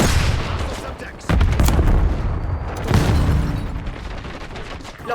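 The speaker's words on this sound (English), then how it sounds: "Incoming flashbang." A flashbang grenade goes off in a video game, a loud sudden boom that jumps up and then rings out, followed by a second heavy blast amid dense game noise and rumble.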